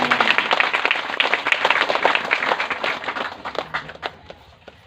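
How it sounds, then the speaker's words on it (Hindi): Audience at a church testimony service clapping enthusiastically, a dense burst of close applause that thins out into scattered claps and fades toward the end. "जोरदार ताली बजाइए।"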